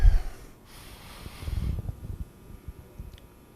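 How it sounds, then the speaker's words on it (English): A single deep breath taken during Yang style tai chi practice: a close, soft nasal inhale and exhale with a snort-like rush of air, followed by quiet. "Take an integration breath"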